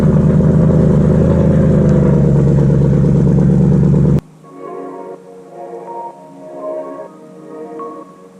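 A loud car engine revs hard and steadily for about four seconds, then cuts off abruptly, leaving quieter mechanical clatter and faint background sounds.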